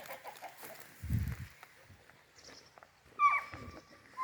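Chickens cluck and squawk briefly at close range amid faint rustling, with a sharp higher-pitched call near the end.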